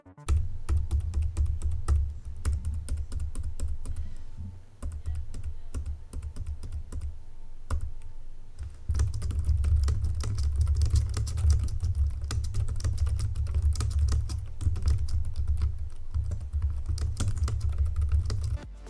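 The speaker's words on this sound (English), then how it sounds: "the best compact budget keyboard that's also very quiet is the Logitech K380" Steady, rapid typing on a compact Logitech K380 keyboard, soft muted keystrokes in a continuous run with a brief pause midway, close up.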